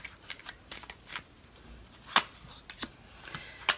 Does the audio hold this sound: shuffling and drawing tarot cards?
yes